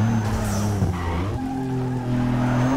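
Mitsubishi 3000GT drifting on a street in Need for Speed Underground 2, tires squealing over a steady engine drone, loud and close with no talking.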